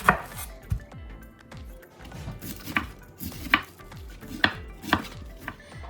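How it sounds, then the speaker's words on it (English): A knife chops cabbage for egg rolls on a cutting board in quick, irregular strokes, each a sharp close thunk, with a few louder hits rising over a steady run of smaller taps and no talking. "now that all the cabbage is cut"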